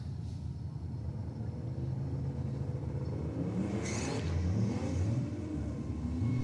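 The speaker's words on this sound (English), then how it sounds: "Starting the burnouts early." A drag race car doing a burnout near the starting line, its engine droning and revving steadily at a distance with a rising pitch toward the end.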